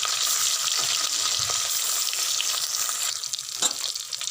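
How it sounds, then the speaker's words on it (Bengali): Hilsa fish pieces fry in hot mustard oil with a loud, continuous bubbling sizzle, interrupted briefly by a few clinks of a utensil against the pan, and no talking. "তেল গরম হয়ে গেছে, এক এক করে আমি মাছগুলোর মধ্যে ছেড়ে দিচ্ছি।"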